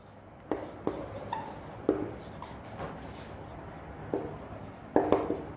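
Scattered taps and short scratchy strokes of writing on a board during a math lesson, a few isolated marks over a quiet hissy room with no talking.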